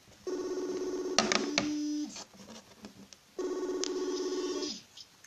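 A telephone rings while a brother is being called back, two long electronic ring tones with a short gap between them, fairly close and clear, with a few clicks in the pause.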